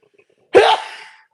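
A single sharp human sneeze bursts out loud and close after a quiet lead-in, then trails off in a breathy tail.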